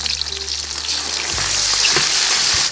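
Doubanjiang bean paste drops into hot soybean oil already frying ginger, scallion and garlic, and the sizzle swells to a loud, close, continuous crackling hiss with a few faint scrapes of the spatula.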